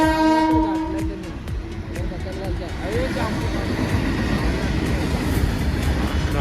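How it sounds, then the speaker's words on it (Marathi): A freight train passes at Akkalkot railway station, opening with a long horn blast and then a steady rumble and clatter of wagons rolling by close, with people talking over it. "मालगाडी आहे मालगाडी मित्रांनो"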